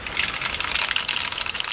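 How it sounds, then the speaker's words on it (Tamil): Mustard seeds spluttering and popping in hot oil during tempering for an oil-brinjal kuzhambu, a dense continuous crackle and sizzle, close and steady throughout. "கடுகு நல்லா பொரிஞ்சிடுச்சு"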